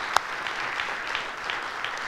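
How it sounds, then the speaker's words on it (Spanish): A short burst of audience applause at a Spanish-language motivational talk, soft and diffuse clapping with one sharper clap near the start, lasting about two seconds. "Demos un aplauso a Lorena."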